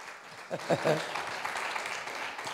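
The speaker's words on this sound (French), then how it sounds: "On vous applaudit aussi" A church congregation applauds its pastor, his wife and team, a steady wash of clapping with a few voices rising over it near the start.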